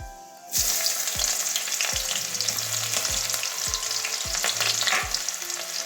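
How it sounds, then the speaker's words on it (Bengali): Panch phoron and chopped onion hit hot oil with a sudden loud sizzle, then fry steadily while a spoon scrapes and knocks the pan in regular strokes, close up, with no voices. "পেঁয়াজটা একটু ভেজে নেব।"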